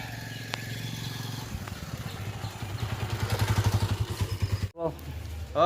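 A motorcycle engine putters along, its pulsing rhythm building louder before a sudden cut and a brief burst of noise at the end.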